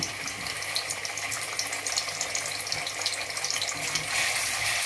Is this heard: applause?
no